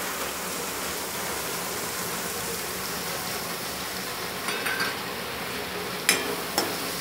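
Spices sizzle steadily in a hot pan for a guar bean curry, a constant frying hiss with a few sharp crackles and spatters near the end, close and unaccompanied by talk.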